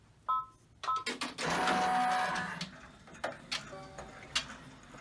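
An embroidery machine stitches a placement line for an in-the-hoop mug rug, giving quiet mechanical ticks and clicks around a few seconds of steady whirring motor hum, with no talking.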